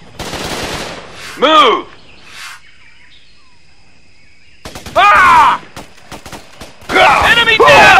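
Gunfire in the Xbox 360 game Raven Squad comes in sharp rapid bursts at three points, with quiet gaps between. A short spoken word and other voices and game sounds appear alongside.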